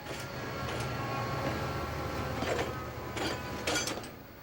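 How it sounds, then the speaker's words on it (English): Diesel engine Mavis trundles across a steel bridge, a steady rumbling rail noise with clanking wheel thumps and metallic rattles, moderately loud and continuous. "he sounds very different to Mavis when she trundles over the steel bridge"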